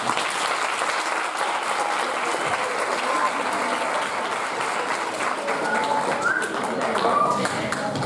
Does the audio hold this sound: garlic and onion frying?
no